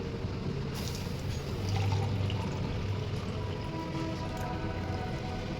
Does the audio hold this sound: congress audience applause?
no